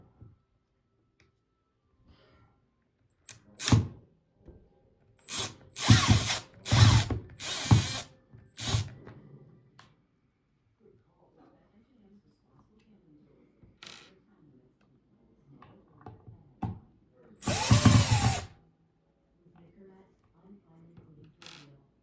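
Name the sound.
loosening screws to remove a Fender Stratocaster pickguard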